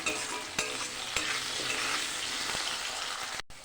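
Potatoes fry with spices, salt and turmeric in a pan, a steady broadband sizzle punctuated by a few sharp spatula scrapes and stirring knocks, with a brief dropout near the end.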